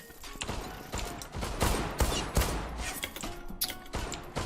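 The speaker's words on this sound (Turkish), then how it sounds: "Mermiler de atıyorlar bize burada." Gunfire in the Zula video game, a busy run of rapid shots and bursts at moderate distance, fairly quiet overall with sharp cracks near the end.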